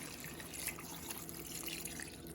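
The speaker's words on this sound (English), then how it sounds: "I'm just gonna fill it up with water and the bouillon cubes will take care of that" Water pours steadily into an Instant Pot holding beef stew ingredients and bouillon cubes, a soft continuous rushing splash heard alone.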